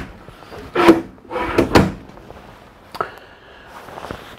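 Drawers in a 2008 Fleetwood Revolution 42N motorhome slide open and shut, giving two or three soft thuds and rattles close by, followed by a faint scrape.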